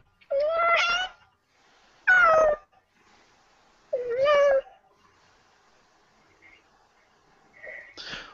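A pet cat meows three times, close and clear, each meow long and rising, with quiet pauses between them and a few soft, faint sounds afterward.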